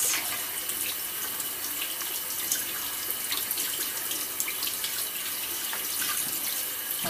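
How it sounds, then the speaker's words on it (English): Beans are rinsed under a running kitchen tap, a loud, steady gush of water splashing into a sink for several seconds without pause, close by and with no voices. "Give them a little rinse."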